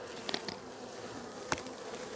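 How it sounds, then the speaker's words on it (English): Honey bees buzz around an open hive during a package install, a steady close hum with a few brief louder passes as individual bees fly near. "have a bunch of bees everywhere"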